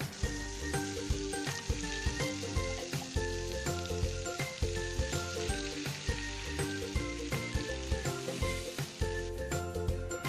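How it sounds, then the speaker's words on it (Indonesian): Oil sizzles and crackles steadily in a pan while sautéing ingredients for Madura chicken satay, with the occasional clink of a utensil stirring; no voices. "Setelah itu tumis menggunakan 5 sendok makan minyak goreng."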